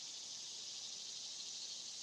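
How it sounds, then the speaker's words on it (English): Katydids and cicadas call outdoors in a constant high-pitched buzzing drone, unbroken and fairly faint, with no talking. "The katydids are really loud."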